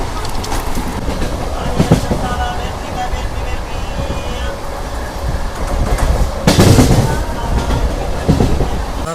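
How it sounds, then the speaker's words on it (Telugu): A passenger train on the Anantapur to Bengaluru route rolls along the rails with a continuous rumbling clatter heard from inside, swelling louder near the end, while a voice talks over it. "మన ట్రైన్ వచ్చేసి మలుగూరుకి అయితే వచ్చేసింది."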